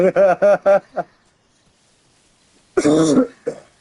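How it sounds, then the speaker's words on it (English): A man coughs in two clusters: three quick harsh hacks and a short trailing one, then after a pause a longer rasping cough followed by a brief last one, close and loud. "I have a really bad cough today."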